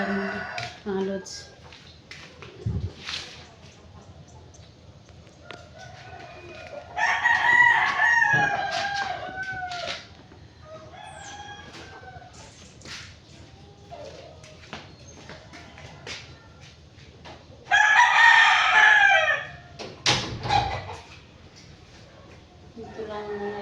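Roosters crow and chickens cluck around a house, two loud close crowing bursts standing out over scattered clucks and household noise, with a person talking in between.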